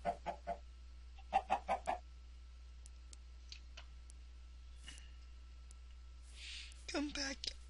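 Chicken in Minecraft, single-player survival, giving a few short clucks in a quick burst, then another group of clucks, fairly faint over a quiet game background with scattered small clicks.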